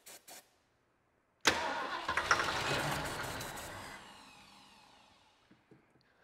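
A Ford engine cranks over and catches with a sudden loud burst, firing roughly for a couple of seconds before the sound fades and dies away; a few faint knocks come just before it starts.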